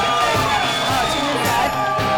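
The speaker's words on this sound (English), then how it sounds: "I hear some screaming." A large audience at a startup event in a loud room shouts and cheers continuously, competing to win a shirt, with a dense roar of mixed voices and no clear breaks.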